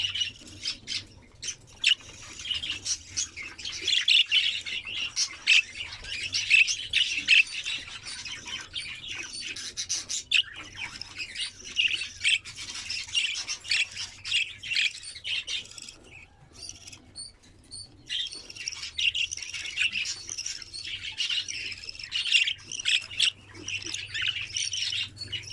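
Pet budgerigars chirp and squawk continuously in a dense, busy chorus of overlapping calls, fairly close and loud, with no voices.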